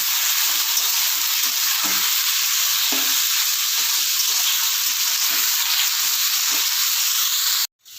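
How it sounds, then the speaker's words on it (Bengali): Potatoes fry in oil for capsicum aloo bhaja, a constant close hiss with soft knocks of stirring now and then, cutting off abruptly near the end. "আলুটা ভাজতে দিয়ে দিয়েছি।"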